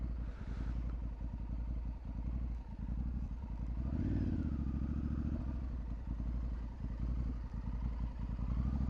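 A Honda Africa Twin motorcycle on street tires riding along a byway, its engine thrumming steadily up close with wind rush and occasional rattle, a brief rise in revs around the middle.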